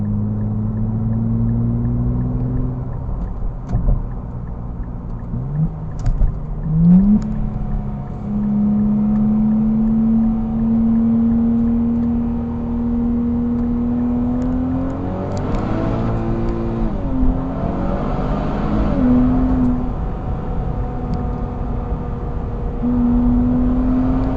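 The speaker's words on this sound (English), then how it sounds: "So missed a gear there. I'm still not used to what this sounds like at redline." Car engine revving up toward redline with clear rising whines, a stumble where a gear shift is missed, then pulling up again, loud and steady from inside the cabin.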